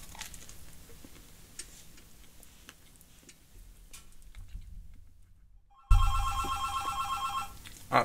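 After several seconds of quiet ticking room noise, a telephone upstairs suddenly begins ringing with a steady trilling electronic bell, moderately loud and heard alone.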